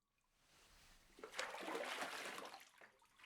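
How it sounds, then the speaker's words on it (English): Water splashing and trickling in a bathtub during a bath, a quiet wet swish rising after a faint start and continuing steadily for a couple of seconds. "I will just wash you in the tub then."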